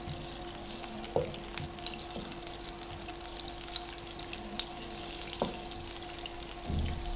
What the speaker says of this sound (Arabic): دوب بس الزبده كويس كده مع الزيت